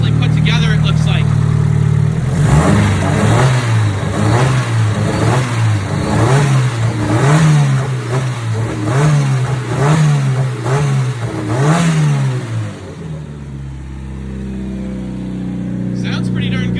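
A 700hp drift car engine that sat unused for three years is revved repeatedly: about a dozen loud, rhythmic blips rise and fall over a rough idle before it settles, with people talking nearby.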